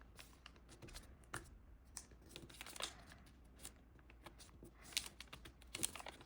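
Origami paper is folded and pressed flat to make a small treetop, giving soft, close crinkles and crisp creasing ticks in quick, uneven bursts. The sound is quiet and no one speaks.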